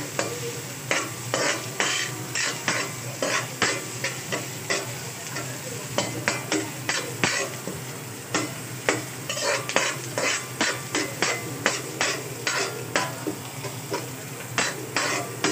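Stirring a frying fish dish in a pan, rhythmic repeated spoon scrapes and clinks over a constant loud sizzle, close and steady throughout.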